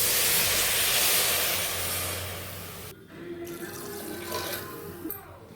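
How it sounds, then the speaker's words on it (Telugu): Water poured from a glass into a cooking pot for vegetable pulao makes a loud, steady rushing splash for about three seconds, then drops to a softer trickle. "4 గ్లాసులు వాటర్ వేస్తున్నా."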